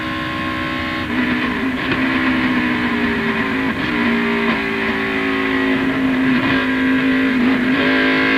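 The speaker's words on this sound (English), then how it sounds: "On board with Hornaday and the Napa Chevrolet." Onboard a NAPA Chevrolet race car during a 2000 race, the engine drones loud and close at high revs, pitch dipping and climbing through shifts and corners with no talk over it.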